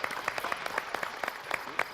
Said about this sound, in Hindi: एक बार जोरदार तालियां मोहनलाल जी के लिए।